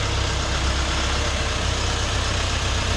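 A Dongfeng 404 tractor engine idles steadily with a low, even diesel rumble and a constant mechanical hum throughout, close and moderately loud with no talking.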